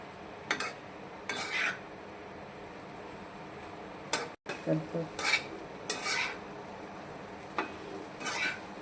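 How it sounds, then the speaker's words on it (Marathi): A spatula mixes slices of leftover idli in a pan. Soft scraping strokes come in short intermittent bursts over a quiet background, close by and fairly faint. "आता छानपैकी मिक्स करून घेऊया"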